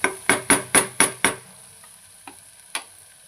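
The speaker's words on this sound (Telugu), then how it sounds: "నేను ఒక్క బేజా తీసుకున్నాను దీనికి. దీన్ని కొంచెం ఇలా ఫ్రై చేసి" Mutton brain (bheja) cooking in a pan, heard as six quick, evenly spaced metallic knocks of a spoon against the pan, followed by a quieter stretch with a few faint, scattered taps.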